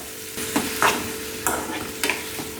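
Finely chopped tomatoes, about 200 grams, sizzle in a hot pan with salt and turmeric, with a few sharp stirring scrapes over a steady low frying hiss.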